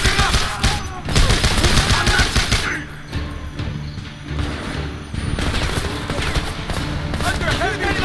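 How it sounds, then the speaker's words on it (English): Intense automatic weapon fire erupts in Homefront, dense rattling bursts from several guns that ease into a lull and then build again, with voices shouting over the firefight. "Under heavy fire!"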